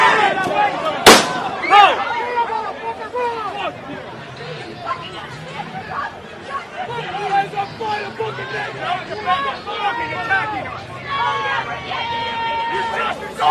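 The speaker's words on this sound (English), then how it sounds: "That was a gunshot." A single sharp gunshot cracks out early amid a crowd at a street rally, followed by continuous loud crowd chatter and shouting that persists to the end.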